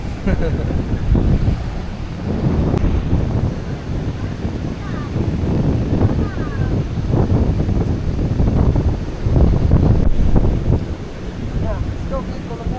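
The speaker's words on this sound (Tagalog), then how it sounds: "Lakas ng hangin guys, malakas yung alon." Strong wind buffets the microphone at the seashore in repeated low rumbling gusts, with waves washing underneath and people talking at times.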